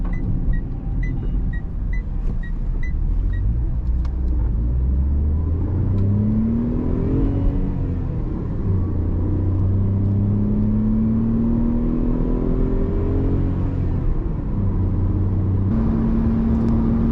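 A Tata Tiago i-CNG hatchback with an AMT gearbox accelerates hard, its engine note rising steadily then dropping at each quick automated upshift, repeating through several gears as a loud, continuous interior drone with no talk.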